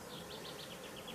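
Bees from a drone-laying honeybee colony, shaken out of their hive onto grass, make a faint, continuous buzzing with soft wingbeat pulses drifting past.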